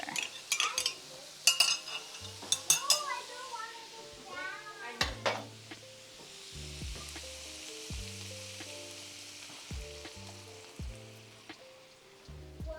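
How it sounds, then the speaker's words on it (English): Udon noodles and a tamari mixture hit a hot pan and crackle loudly at first, then keep up a steady sizzle as utensils stir, clink and scrape through the rest. "we're supposed to add the noodles and the tamari mixture"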